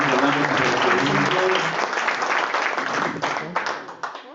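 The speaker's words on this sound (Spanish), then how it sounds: "Un aplauso, señoras y señores." An audience at a talk breaks into loud applause, a dense wash of clapping that holds for several seconds and then thins toward the end, with a voice briefly audible at the start.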